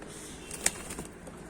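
A young white Posta pigeon in a coop gives a single short, sharp call near the middle, close and clear above a quiet background hiss.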